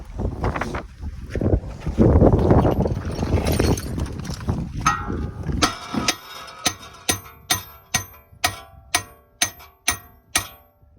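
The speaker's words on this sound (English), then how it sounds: "So if I hammer this off, it won't do any damage at all." Metal hammering on a front wheel hub of a 2014+ Jeep Cherokee during wheel bearing removal, with an earlier stretch of messy clanking followed by about ten sharp, evenly spaced ringing blows, close and loud.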